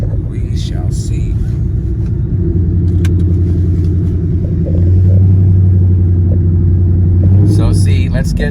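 A Ford Mustang driving around Atco, its engine a steady low rumble that swells a little louder halfway through, with a voice talking over it.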